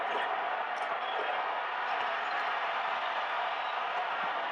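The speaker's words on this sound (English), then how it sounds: "The crowd chanting Sugar Ray." Boxing arena crowd chanting "Sugar Ray" at a fight between Sugar Ray Leonard and Hagler: a dense, steady roar of many voices, fairly far and evenly loud throughout, with no clear single speaker.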